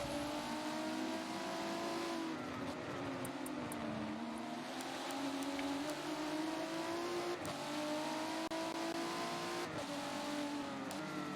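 Race car engines whine continuously during a sim racing event at Brands Hatch, with a faint, steady high-revving drone and shifting pitch as the cars circuit the track.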